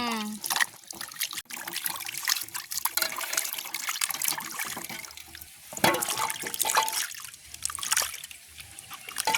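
Red-soil tubers are washed by hand in water in a village setting, with close splashing, trickling and sloshing, and people talking over the wash.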